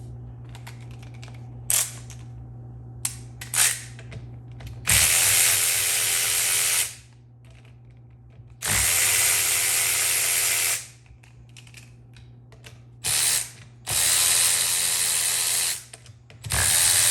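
Ratchet wrench backing bolts out of the triple clamps on a YZ250 fork assembly, rapid clicking bursts repeating in several loud runs of a second or two, separated by quieter pauses with faint steady hum underneath.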